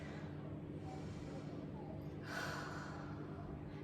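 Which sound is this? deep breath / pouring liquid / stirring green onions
deep breath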